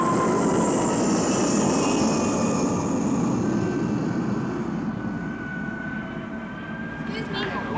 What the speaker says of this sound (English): My parents' plane is just landing.